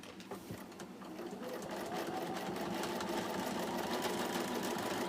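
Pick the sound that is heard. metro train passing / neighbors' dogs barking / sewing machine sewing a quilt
sewing machine sewing a quilt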